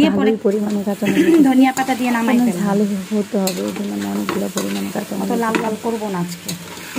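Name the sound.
stirring frying fish curry with green chilies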